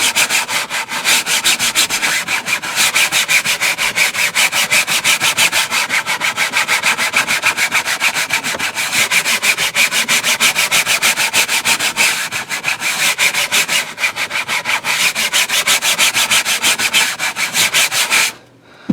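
Microfiber towel scrubbing a fabric car seat in steady, rapid back-and-forth strokes, a close, loud rubbing that runs without a break and stops just before the end.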